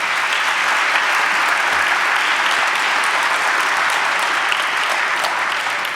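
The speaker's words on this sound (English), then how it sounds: "Another round of applause," A large audience applauds loudly and continuously, a dense, even wash of many hands clapping close by that holds steady for the whole stretch, with no voices on top.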